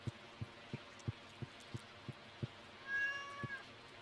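A cat in the Stardew Valley farming game gives a single clear meow near the end, following a steady series of soft rhythmic thumps, with no talking.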